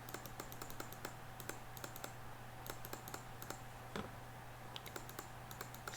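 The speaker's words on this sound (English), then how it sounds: "So just click, and if you want to, you can spam click" Faint, rapid clicks from a computer mouse used to play Minecraft Skyblock, coming in quick irregular bursts over a steady low electrical hum, with no talk.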